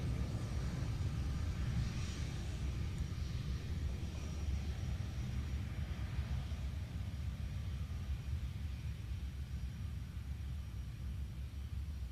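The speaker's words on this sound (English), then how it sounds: "we hope you enjoyed this brief look at the C-17 Globemaster III, the United States Air Force's core airlifter and workhorse" A Boeing C-17 Globemaster III military airlifter flies at the Joint Base Lewis-McChord airshow, its deep engine rumble steady and broad for the whole stretch, loud and unbroken with no voices.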